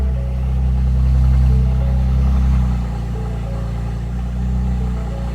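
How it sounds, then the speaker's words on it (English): Car on a full cold start fitted with aFe catless equal-length downpipes, idling with a deep steady exhaust rumble that is louder at first, then settles slightly lower, close and alone with no talking. "this is a full cold start with the Catless equal length downpipes"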